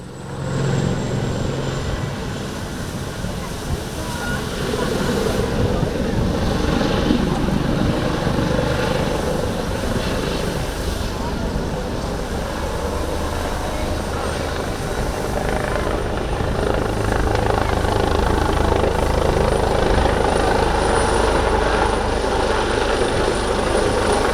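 An HH-139B rescue helicopter flying at an airshow, its rotor and turbine drone loud and continuous for the whole stretch, swelling slightly as it moves, with faint crowd or commentary sound beneath.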